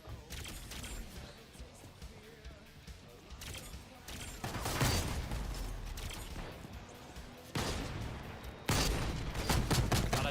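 Gunfire in the video game Splitgate 2, with repeated bursts of automatic shots and sharp blasts coming in clusters, fairly loud and dense, growing heavier toward the end.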